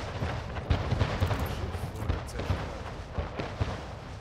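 Cannon towers fire artillery in Anno 1800, a steady run of low, dull booms and thuds at a moderate distance under a continuous rumbling battle din.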